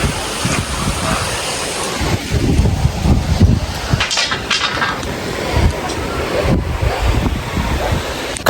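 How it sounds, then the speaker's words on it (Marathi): Strong gusting wind during a sudden unseasonal storm at an outdoor traditional Konkan wedding, roaring buffets of wind noise battering the microphone throughout, with rushing bursts and no clear talk. "भयानक वारा सुटलेला"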